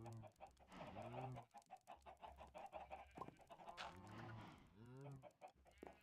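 Minecraft chickens cluck and squawk in a busy, repeating flurry of short calls, fairly close and continuous, with a person talking intermittently beneath and between them.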